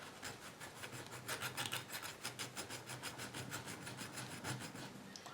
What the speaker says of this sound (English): I'm just gonna keep filing this